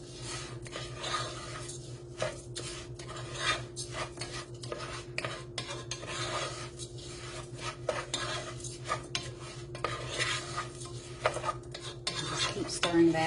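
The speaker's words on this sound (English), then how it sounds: "Stir the rice so that you can get the melted butter on each grain," Rice grains coated in melted butter are stirred in a pot for Mexican rice, giving faint, close scraping and rustling strokes with light utensil clinks over a low steady hum, and no talk.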